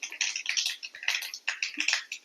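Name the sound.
mustard seeds spluttering in hot oil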